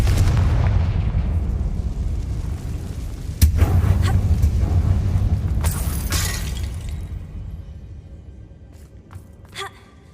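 Confringo fire-spell blasts in an abandoned mine in Hogwarts Legacy: a sharp explosive bang cracks out at about three and a half seconds, followed by further bursts and debris crackle over a rumbling low bed.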